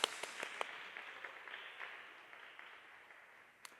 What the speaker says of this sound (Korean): 우리 앞에 영광 박수 올려드리겠습니다.